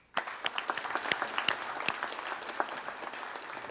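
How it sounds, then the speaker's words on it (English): Audience clapping at a high school prize-giving starts abruptly and continues as a moderate, somewhat sparse patter of individual claps, heard from a distance without voices. "We'll give you a clap now anyway."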